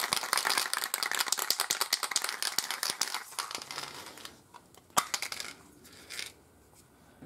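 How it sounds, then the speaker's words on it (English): A spray can of matte varnish is shaken hard with fast rapid rattling, the mixing ball clattering inside, loud and close for several seconds before slowing to a few scattered knocks. "But obviously, give it a good shake up."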